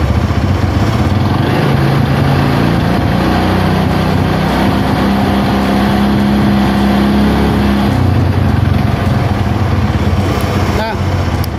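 A motorcycle engine revved during a charging system check with the headlight on high beam: a loud, close engine drone rising and holding at higher revs, then settling, with faint rattling.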